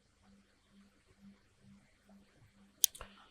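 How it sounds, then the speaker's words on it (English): Computer mouse clicks: a faint quiet stretch then a sharp pair of close, crisp clicks near the end, with soft background hum and low breathy noise. "I'm going to right click."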